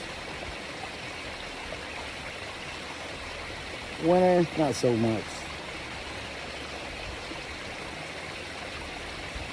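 A river in Alaska flows by in a steady, even rush of water that fills the whole stretch, with a person briefly speaking over it midway.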